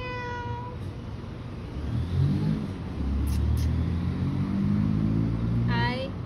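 A few high, rising kitten meows, one near the start and one near the end, over a steady low engine rumble.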